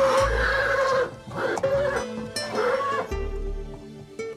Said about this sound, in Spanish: Relincha cuando presiente cerca la presencia de la yegua.